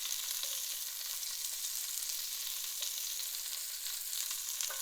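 Brussels sprouts sizzle steadily in butter in a pan, a soft, even hiss of frying that holds at a constant low level for the whole stretch, with no voices.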